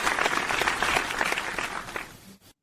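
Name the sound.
audience applause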